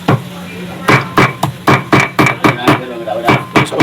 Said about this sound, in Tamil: பொடிசாக கட் பண்ணிட்டு இருக்காங்க